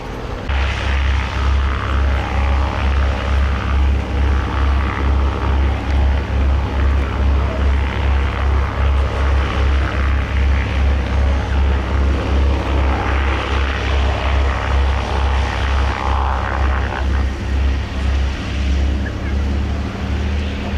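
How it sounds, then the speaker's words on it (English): Spitfires, Hurricanes, a Lancaster and a Dakota of the Battle of Britain Memorial Flight pass at an airshow, their piston propeller engines droning in a loud, steady, throbbing roar that holds throughout, with faint talk underneath. "So here they go, the Spitfires, Hurricanes, Lancaster and Dakota,"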